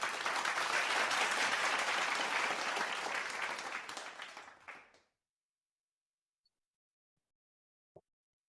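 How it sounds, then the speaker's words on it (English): Audience applause at a church family service, dense and steady clapping from a large crowd for about four seconds, then fading out and ending abruptly, followed by near silence and one small knock. "Let's welcome him with a big round of applause."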